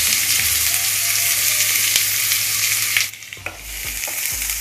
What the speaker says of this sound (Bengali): হালকা ভেজে নেবো এটা খুব ভালো করে ভাজার দরকার নেই হালকা ভাজা হলেই হবে